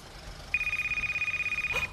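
A mobile phone rings in a quiet room: a steady rapid electronic trill that starts abruptly and pulses evenly for over a second, close and fairly loud, with no talking over it.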